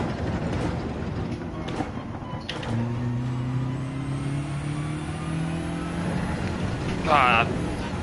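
A BMW engine in a racing video game revs and holds a steady tone, with a voice talking over it and a brief higher whine near the end.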